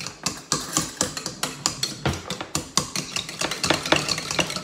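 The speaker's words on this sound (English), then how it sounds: "I think I should pull out a spoon." A spoon stirring mashed cauliflower in a pot, a quick series of sharp metallic knocks and scrapes in a fairly steady rhythm, close and moderately loud, with no talking.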